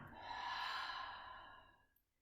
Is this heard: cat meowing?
no